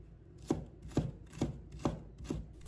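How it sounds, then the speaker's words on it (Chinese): Knife chopping fresh ginger into thin strips on a cutting board for a rice-cooker chicken wing dish, five evenly spaced, crisp, close thuds without talk. "再切成丝。"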